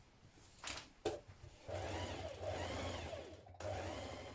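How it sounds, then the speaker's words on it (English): An overlocker runs along fabric seams in bursts, first short clicks and starts, then a steady mechanical whir that stops briefly before resuming, close and moderately loud. "Now I'm overlocking all my seams as I finish them."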